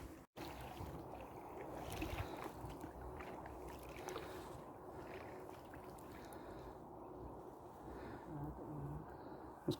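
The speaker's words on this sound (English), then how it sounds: "Right, back paddling." Inflatable kayak paddled backwards across a Scottish loch: steady splashing and dripping water from paddle strokes, with light wind, close to the microphone and no talking.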